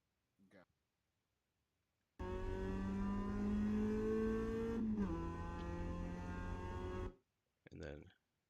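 A race car in the iRacing simulator roars at full throttle, its engine note climbing steadily for about five seconds before a brief dip and continued high-revving drone, framed by short bursts of talk before and after.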